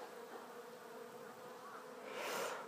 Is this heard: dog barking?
no